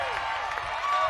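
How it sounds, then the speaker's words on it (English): Fans cheer and applaud in the stands at a women's college lacrosse final, a steady crowd roar at moderate distance. "fans are cheering right now"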